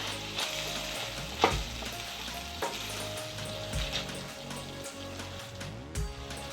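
Cooked mixed vegetables for Bhogi bhaji being stirred in a pan, a continuous low sizzle under repeated scraping and clattering spoon strokes, near and fairly quiet, without speech.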